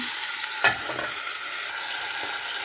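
Steady sizzling and crackling of talakitok (trevally) fish frying in hot oil, with a brief scrape or clatter near the start.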